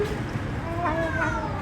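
A cat being fed outdoors lets out a short, faint meow partway through, over steady background noise while it eats.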